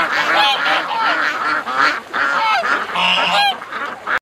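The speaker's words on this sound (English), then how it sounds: "Now this is happy ducks today." Ducks calling together in a dense, loud chorus of honking quacks, one after another with brief pauses, close by and without talk.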